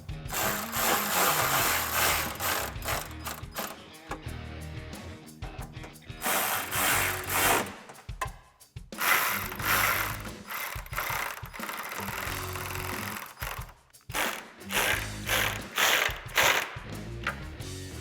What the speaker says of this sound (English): using our same 10mm socket, we can tighten down all our hardware as well